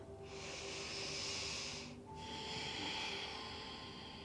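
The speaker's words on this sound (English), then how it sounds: "Take 5 deep breaths." Two long, deep breaths during a restorative yin yoga pose, an airy inhale then exhale, close and steady over a faint background hum.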